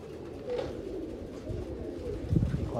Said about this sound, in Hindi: ये बड़ा वी आई पी कबूतर है